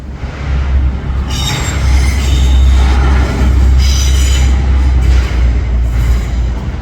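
A Manchester Metrolink tram rolls past close by with a steady low rumble, high metallic wheel squeals rising and falling over the top.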